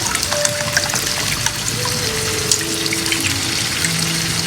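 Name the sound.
pouring a cup of water into curry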